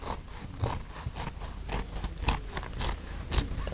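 Scissors cutting material off a roll during a Land Rover 90 restoration, a series of repeated close snipping and scraping strokes in an irregular rhythm, with no talking.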